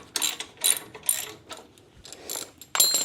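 A ratchet fitted with a 16mm socket clicks in short bursts on a Jeep tow bar bracket, close by, with a quick series of pawl rattles separated by brief pauses.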